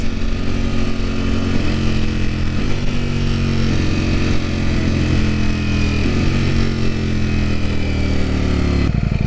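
A Ducati Panigale V4 motorcycle rides at low RPM, its engine a loud, steady drone with stepwise pitch shifts as it changes gear, heard close with wind noise.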